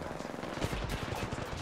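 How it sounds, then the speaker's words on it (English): A charge rifle firing in Apex Legends, a dense burst of rapid, loud, punchy shots over continuous game noise, with no talking. "That charge rifle."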